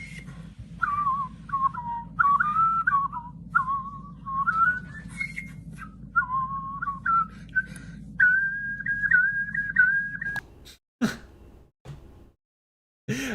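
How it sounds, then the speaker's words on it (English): A person whistles a wavering melody with the tongue, a clear close tone moving through short phrases over a low background hum, ending with a few sharp breaths and clicks. "He's using his tongue to whistle, it seems."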